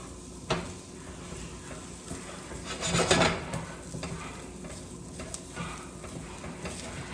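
Aromatics fry in oil in a pot for a salsa verde chicken soup, with a continuous soft sizzle, occasional spoon scrapes and stirring clatter near the middle.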